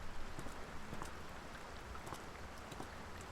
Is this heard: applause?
no